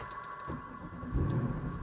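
Mercedes C63 AMG engine, a high-mileage car, fires up at about 1.2 seconds with a loud deep rumble that settles into a steady idle, after a quiet stretch with faint clicks.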